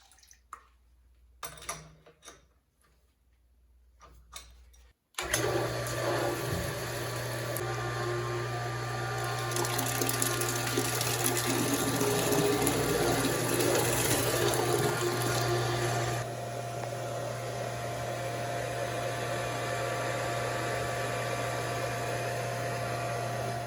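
A household well pump being bled kicks on abruptly after a few quiet seconds, then runs as a steady loud hum with rushing water, continuing alone for about eighteen seconds with a slight drop in level partway through.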